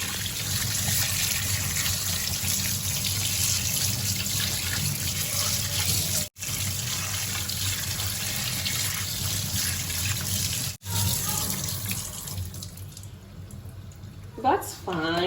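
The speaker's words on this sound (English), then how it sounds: "I want to really wash it well and then soak it in water for a while" Tap water runs steadily into a sink while food is washed and soaked for a garden egg stew, a continuous splashing rush with two brief cutoffs and quieter handling near the end.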